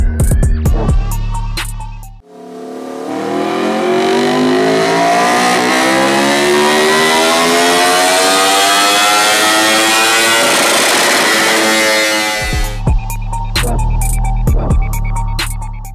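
A 2016 Aprilia RSV4 RR superbike engine revs hard on a dyno, rising in one long loud sweep for about ten seconds before dropping back to a rough, blipping idle.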